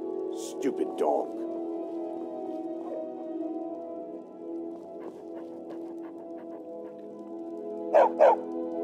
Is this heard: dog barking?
yes